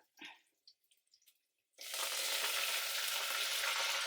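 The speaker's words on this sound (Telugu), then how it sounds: "కరివేపాకు వేద్దాం. కరివేపాకు మాడనియద్దు." Curry leaves dropped into hot oil for coconut rice burst into a loud, steady sizzle after a quiet start with a few small kitchen clinks, continuing unbroken and close.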